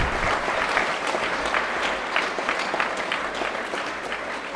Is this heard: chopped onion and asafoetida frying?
no